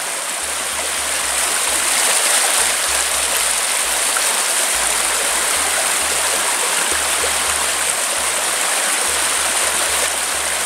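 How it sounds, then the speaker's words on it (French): A steady, close rush of water flowing in a small stream, continuous and even for the whole stretch with no voices over it. "Et cette fois-ci, il y a vraiment de l'eau qui s'écoule."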